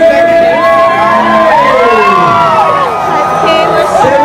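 A large crowd of 5K runners at the Dubai Run 2022 screams and cheers loudly and continuously, with whoops and shouts blending into a dense, sustained roar.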